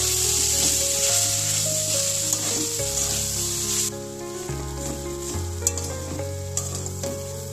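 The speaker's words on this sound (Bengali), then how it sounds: "আলুটা দিয়ে আমি ভালোভাবে মিশিয়ে ভাজা ভাজা করে নেবো" Boiled, mashed potato is stirred into hot spiced oil in a pan for a cauliflower kachori filling. A close, dense sizzle with scraping stirs runs throughout, softening midway, while tonal background music plays underneath.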